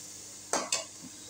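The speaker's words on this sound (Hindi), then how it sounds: "अदरक लहसुन का पेस्ट ले लिया, वो शामिल करेंगे और इसकी खुशबू आने तक इसको पकाएंगे" Two quick bursts of sizzling as ginger garlic paste fries in a hot pan for chicken biryani, each flaring up then settling back into a quiet, steady background hiss.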